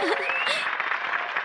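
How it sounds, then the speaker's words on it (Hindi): Audience clapping for a dancer fills a short stretch, steady and moderately close, with a brief cartoon voice line overlapping at the start. "इनके लिए तालियां बजाइए"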